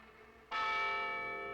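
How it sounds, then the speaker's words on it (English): A cartoon Liberty Bell rings with a single sudden, bright metallic strike that then sustains with a long, steady ringing tone after a quiet start. "Look at all them bells."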